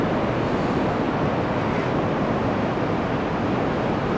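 Smooth, clean ocean waves breaking at a surf beach in Anglet, heard as a steady, broad wash of surf with some wind, continuous and fairly loud with no voices.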